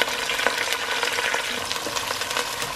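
Chopped onion crackling in hot oil for an Indian tadka, seasoned with kalonji seeds, a steady close sizzle with a few scraping stirs and no one speaking.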